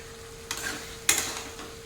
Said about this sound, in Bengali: আবারও একবার নাড়িয়ে দেব।